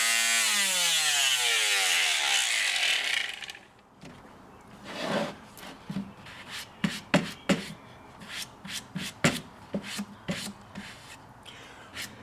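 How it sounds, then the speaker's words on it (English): A power sander whirs steadily on a wood slice for a few seconds, then cuts off, followed by scattered taps, clicks and light scraping on wood. "After sanding this,"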